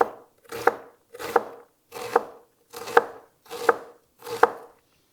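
A knife dicing an onion on a cutting board with the root end left attached, seven evenly spaced crisp chops in a steady rhythm, close and clear with no talking.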